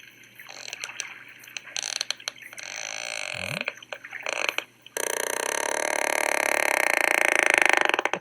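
Sperm whale vocalizations: low, burp-like grunts and rumbling clicks, followed by a long, dense wash of underwater noise that grows steadily louder.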